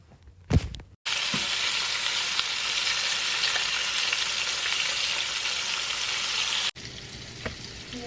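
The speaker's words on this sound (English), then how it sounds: "And then I'll fry the leg and the thigh separately." Chicken leg and thigh frying in oil, a loud steady sizzle that starts abruptly after a brief clatter and holds for several seconds before cutting down to a quieter fry.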